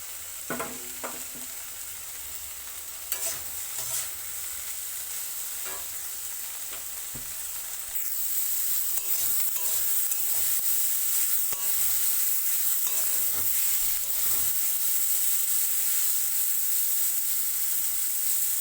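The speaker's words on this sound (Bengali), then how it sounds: "এর মধ্যে কেটে রাখা পেঁয়াজ আমি দিয়ে দিচ্ছি" Chopped onion fries with yardlong beans in a pan, making a continuous close sizzle that swells louder partway through, broken by occasional spatula scrapes and taps.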